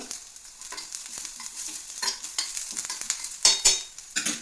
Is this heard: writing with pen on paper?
no